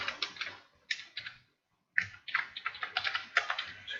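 Rapid plastic clicks from a computer mouse or keys, close and dry, come in quick bursts that stop for about half a second and then resume in a dense run, with no voices.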